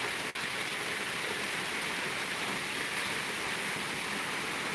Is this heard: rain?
yes